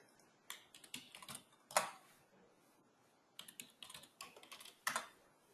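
Quick clicking keystrokes on a computer keyboard as commands are typed into a terminal, coming in two close, fairly quiet bursts with a short pause between them and no talking.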